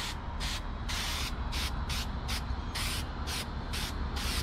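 An aerosol can spray-paints a Mossberg Patriot 300 Win Mag rifle from green to black in a quick series of about a dozen short, loud hissing bursts at close range, with brief pauses between them.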